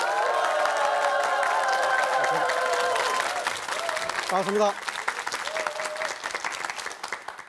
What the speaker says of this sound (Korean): 김종구 소장님을 뜨거운 박수로 모시겠습니다